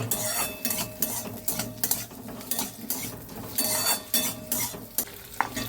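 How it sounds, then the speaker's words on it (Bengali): Potatoes frying in a pan for a fish curry, with steady sizzling and repeated scraping, clinking stirs of a utensil against the pan in irregular bursts, close and fairly loud, no talking. "এখন আলুটা দিয়ে দিচ্ছি।"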